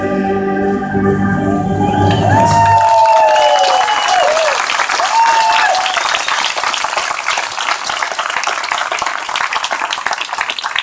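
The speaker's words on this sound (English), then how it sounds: "We should probably give out a big round of applause to Scott Crosby" The national anthem ends and a large crowd breaks into loud, sustained applause with whistles and cheers, continuing steadily throughout.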